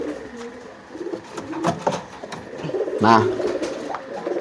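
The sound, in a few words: pigeon cooing during courtship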